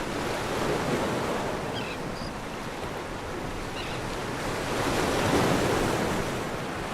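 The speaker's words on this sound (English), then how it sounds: "Along the coast at Pacifica, waves kept grinding at the bluff." Ocean surf pounds against the coastal bluff at Pacifica, a steady, broad wash of crashing water mixed with wind noise, swelling louder toward the end, with faint bird cries and no voices.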